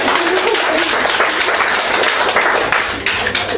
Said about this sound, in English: Give a round of applause for Gemma.